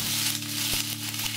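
Sliced starfruit tossed into hot oil with dry red chili and mustard seeds, giving a steady close sizzle under a constant low hum, with one brief knock midway.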